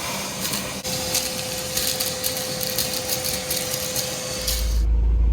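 A vacuum cleaner runs inside a Mercedes-Benz 190E with a steady mechanical whir and sustained tone, rising into a louder, deeper drone near the end, close by with no talking.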